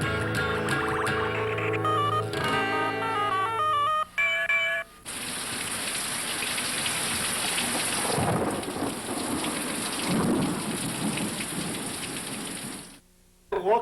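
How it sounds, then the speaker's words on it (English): Heavy thunder rumbles over steady rain pattering on surfaces during a storm, loud and sustained, following a short stretch of music. "Here comes the rain."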